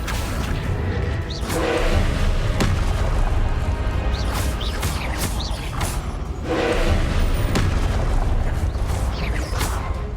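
Explosive blasts from the Confringo spell in the video game Hogwarts Legacy, with repeated booms, whooshes and crashing impacts layered over constant game noise, loud and close across the clip.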